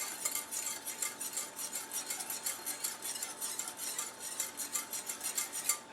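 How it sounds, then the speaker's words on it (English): Zucchini bread batter is stirred briskly in a bowl, the utensil scraping in quick, steady rhythmic strokes close up, with no voices. "Make sure you mix that in well."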